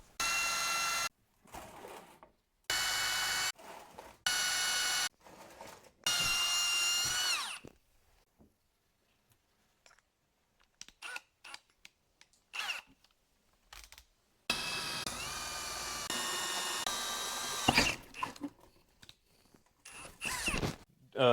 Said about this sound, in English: I'm just going to take a little small drill bit and drill me a pilot through here.